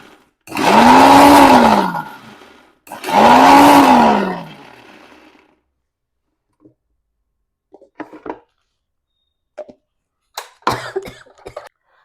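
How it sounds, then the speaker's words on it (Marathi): A person with an existing cough hit by chili fumes from a ground cumin, salt, garlic and green chili mix erupts in two long, harsh, loud coughs, followed by quieter scattered throat sounds and small clatters. "आधीच खोकला आणि त्यामध्ये मिरची उधळली त्यामुळे एकदम ठसका लागल्यासारखं झालं"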